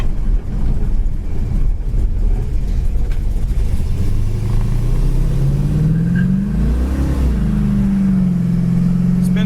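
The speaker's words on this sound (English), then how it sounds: "It didn't make a lot of noise, but goes down the road really good." A 1971 Dodge Charger drives down the road, its engine droning steadily from inside the car, then climbing and settling in pitch as it accelerates and shifts through the gears.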